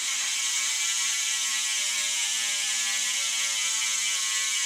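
Hope Pro 5 bicycle rear hub freewheel spinning, its ratchet pawls producing a dense, steady high-pitched buzz of rapid clicks that merge into a continuous whir, recorded close with nothing else audible.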